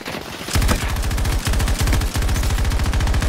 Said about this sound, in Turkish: Arkamdan vuruluyorum.